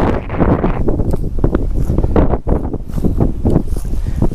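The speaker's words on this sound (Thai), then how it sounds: "แน่ใจว่าเพื่อนๆจะได้ยินเสียงลมไหมนะลมมันลมแรงมาก" Strong wind gusting outdoors at a camping spot, buffeting the microphone with loud, continuous rumbling and flutter that swells and dips in uneven pulses, with no other sound breaking through.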